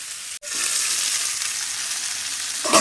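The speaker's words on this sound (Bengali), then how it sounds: "আলুগুলো নাড়াচাড়া করে ঢাকনা দিয়ে দিলাম" New potatoes and green peas sizzle loudly and steadily in a pan as they are stirred, with a brief break just after the start and no one talking.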